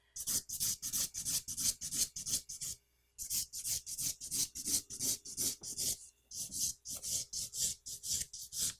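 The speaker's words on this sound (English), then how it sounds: "You can tell when I'm filing. Listen to the file." A hand file worked with long, even strokes, rasping in a steady back-and-forth rhythm of about two strokes per second, close and loud, with short pauses between runs.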